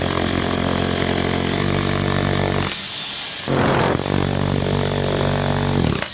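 A loud, buzzing concrete vibrator motor drones continuously, cutting out briefly midway before starting up again and running steadily to the end.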